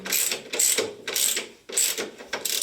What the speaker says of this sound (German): Dann können wir die hinteren Schrauben mal halbwegs festmachen.